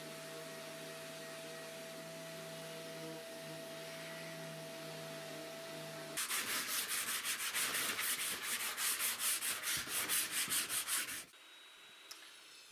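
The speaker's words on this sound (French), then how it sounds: "on va donner le coup de ponçage final et puis soigner les" Power sanding of wooden slats for an outdoor gate, a loud pulsing rasp with a regular rhythm that starts midway after a quieter hum and then stops abruptly.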